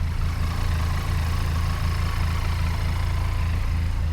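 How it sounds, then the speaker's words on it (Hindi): A 2025 Benelli TRK502X motorcycle idles close by with a steady, even low thrum and a fast regular pulse, loud and unbroken throughout, with no talk. "एकदम स्मूथ, एकदम रिफाइंड इंजन है यार बेनेली का"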